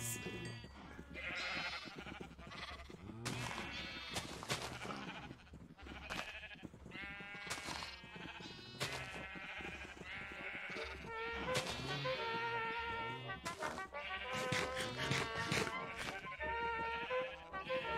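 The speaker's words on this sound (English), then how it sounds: "Hi, sheepy sheepies." Sheep bleat repeatedly, loud and close, in a string of wavering cries over a low background, with voices talking between and over them.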